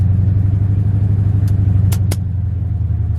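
A loud, even engine rumble and road drone come from a car with 4.88 gears and a 46RE automatic transmission driving to a race track, with a few brief ticking sounds over it.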